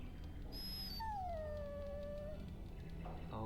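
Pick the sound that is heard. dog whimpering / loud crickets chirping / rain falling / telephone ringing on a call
dog whimpering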